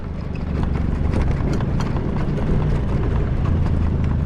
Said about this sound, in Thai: อีวัวแม่งเต็มถนนเลย